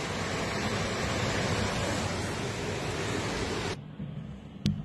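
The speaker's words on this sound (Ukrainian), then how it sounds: "Вода йде від тих сусідів дуже сильно" Loud, steady broadband rush of floodwater in Odesa fills most of the clip, then cuts off abruptly near the end, leaving a quieter background and a brief sharp click.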